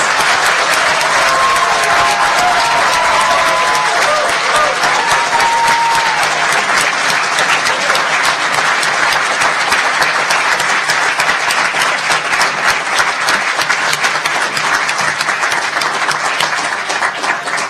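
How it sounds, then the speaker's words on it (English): An audience at a naturalization ceremony applauds loudly and continuously, a dense wash of clapping that holds steady for the whole stretch, with a few faint voices early on. "Let's have a round of applause for America's newest citizens."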